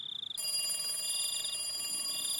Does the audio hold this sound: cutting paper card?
no